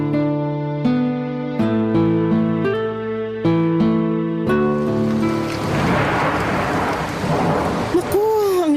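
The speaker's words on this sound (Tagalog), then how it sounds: "Naku, ang lakas ng ulan sa labas ng bintana." Heavy rain falls outside a window as a dense steady hiss that takes over after several seconds of sustained piano-like tones, with a rising whistle near the end.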